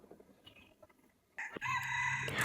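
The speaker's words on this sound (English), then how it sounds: "grew into a great young rooster" A rooster crows loudly and close, one full cock-a-doodle-doo rising out of quiet background noise with no talk.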